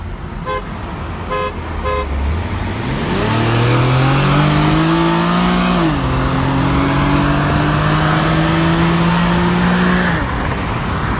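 A Nissan 370Z or BMW F30 with its muffler deleted revs loud and close, the raw exhaust note climbing after a short idle, holding a high drone, dipping and rising again before cutting off.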